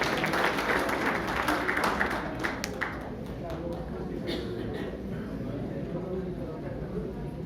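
Audience applause welcoming a singer at a stage event, clapping strongest at the start and then thinning to a quieter, lingering patter, heard at moderate distance.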